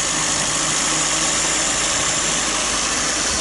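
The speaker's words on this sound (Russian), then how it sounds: "Вот заводится машина, мужики, холостого у нее не было." A VAZ-2109 car engine idling with a fault that makes it stall, a steady close mechanical hum with a faint uneven knock under broad noise, continuous with no voices.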